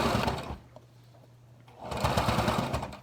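A sewing machine stitches a fabric mask in two bursts of steady rapid needle chatter, loud and close, separated by a quieter pause of about a second with a faint hum.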